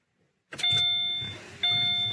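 A Subaru being switched back on with a prox key, starting with a click and a rising electronic whine, then steady warning chimes that stop and resume, near and clear.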